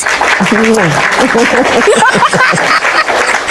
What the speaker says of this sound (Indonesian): Tepuk tangan buat Ustadz ya